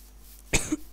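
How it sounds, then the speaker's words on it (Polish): A single sharp cough bursts out near the end of a short stretch of quiet room tone, followed by a second cough starting right at the close, from a player during a Minecraft gaming session. "ale mogę sobie tak czasami kaszlnąć"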